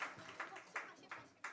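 A church congregation at a Christmas Sunday service claps to welcome baptism candidates. The claps are quiet and distant, coming as a handful of evenly spaced bursts with faint voices underneath.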